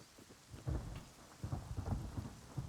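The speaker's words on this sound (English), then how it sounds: "The fact that we've got a storm out here is not bad." A thunderstorm in the survival video game Rust, with low rumbling thunder rolling in several swells over a steady hiss of falling rain, loud and with no talking.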